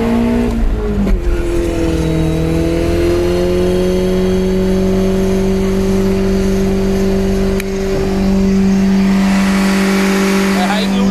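A car doing a burnout, its engine held at a high, steady rev while the tires squeal continuously, loud and close, with people talking over it.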